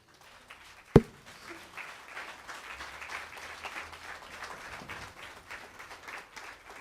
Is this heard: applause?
yes